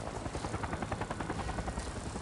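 A helicopter in the video game Avatar Frontiers of Pandora thumps with a steady, rapid rotor chop. It is moderately loud and slightly distant, over a constant engine drone, with no talk.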